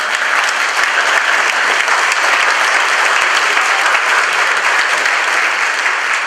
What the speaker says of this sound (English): I also want to hear another round of applause for our GPA guys